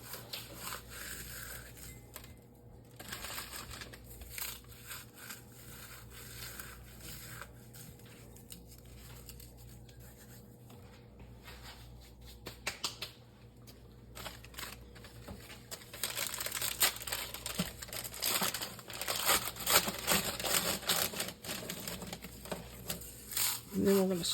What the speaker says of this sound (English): just crush your crackers in the butter